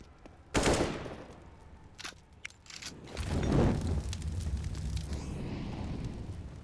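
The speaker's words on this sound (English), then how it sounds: "Beautiful molly actually there onto the E-box." Counter-Strike match audio with a Molotov bursting into fire and gunfire: a sharp loud whoosh, scattered shots, then a sustained roaring crackle of flames.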